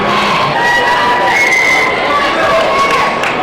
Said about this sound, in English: the crowd's getting a little rambunctious